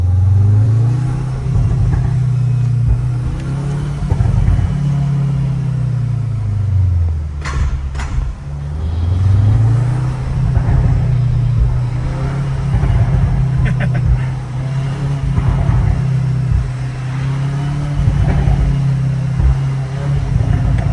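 A loud, deep exhaust on a 2025 Audi S3 with an Akrapovic system drones and revs in long swells, with a few sharp pops and crackles between rises, close by.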